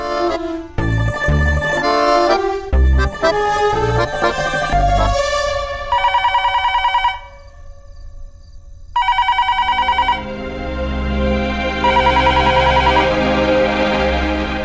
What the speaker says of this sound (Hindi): अरे बेटा जा के उठा ना, मुंबई से शुभम जी का फोन आएगा।